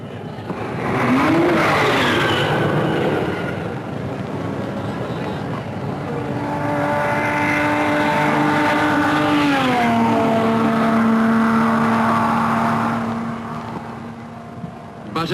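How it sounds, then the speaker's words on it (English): A 1955 Le Mans Aston Martin and Maserati race past, engines roaring loudly and revving as a car sweeps by, the pitch sliding down with a long Doppler drop, with crowd and track noise underneath. "Behind races the Aston Martin."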